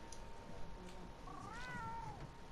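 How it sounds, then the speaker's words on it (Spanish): A pet cat gives one drawn-out meow that rises and then falls, heard fairly close over a steady low background hum. "¿Veis? Ahí está mi gato"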